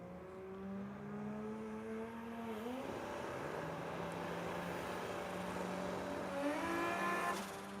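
A drag car at an Australian sports compact drag racing event in Adelaide revs and starts to launch, its engine note climbing and wavering, then cuts out on its own, with crowd and track noise carrying on throughout.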